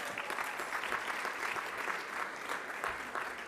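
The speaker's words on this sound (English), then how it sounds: "A round of applause for you all." Steady applause from an audience at a 2022 netball awards night, a dense even wash of many hands clapping without a break, moderately loud and continuous.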